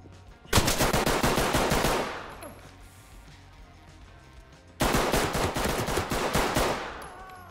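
Video game gunfire in Ready or Not, loud close bursts of rapid automatic shots in two separate volleys with a quieter gap between them.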